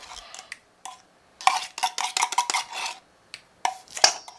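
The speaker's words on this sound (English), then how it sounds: "mix your soup in with your broth" A spoon scrapes and clanks in a pan while canned soup is mixed into broth for a ham and egg linguine casserole, bursts of close metallic stirring with short pauses between strokes.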